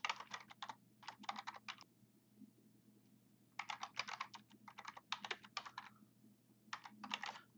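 Fingers type quickly on a computer keyboard in fast clattering bursts with short pauses between them. The sound is close and clear in a quiet room, with no talking.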